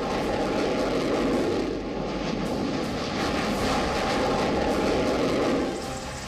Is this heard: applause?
no